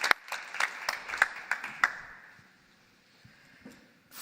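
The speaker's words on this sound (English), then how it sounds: "A big round of applause again." Sparse applause at an award ceremony: a handful of sharp, separate claps in an uneven rhythm, fading out after about two seconds into near quiet with a couple of stray taps.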